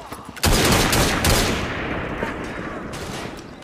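Gunfire in the Assassin's Creed Syndicate video game, a sudden loud burst of rapid shots followed by a long dense roar of overlapping fire that slowly fades, with voices faintly underneath.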